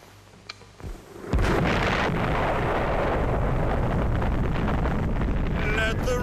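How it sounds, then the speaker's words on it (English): A British atomic bomb explosion: a sudden deep roar hits after a quiet start and then rumbles on steadily as a massive, sustained blast, heavy with wind-like noise. "an imported British atomic explosion"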